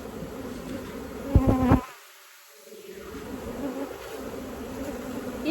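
Honeybees shaken loose from a hive frame swarm in the air with a steady, dense buzzing drone. A brief louder rustle opens the sequence, followed by a short lull before the buzzing returns and holds.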